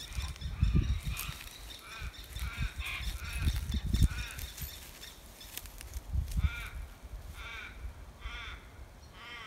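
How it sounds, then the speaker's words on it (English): Crow-like birds calling in the Australian bush, repeated harsh caws from overhead, loud and near at times, overlapping one another with no talk. "Can hear all the birds up there."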